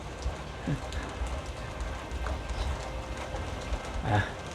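Rain falls during a rainy-season storm, a steady broadband wash of patter with a couple of brief knocks and no voices.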